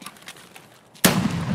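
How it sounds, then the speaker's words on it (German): Grenade blast in the first-person shooter Escape From Tarkov, a sudden loud burst after a second of quiet background noise, followed by a sustained rumbling decay. "Werf Granate."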